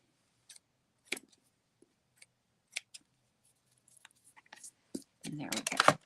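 Scissors snip through card paper in a few sparse, close cuts, followed by a denser burst of rustling and clicking handling near the end.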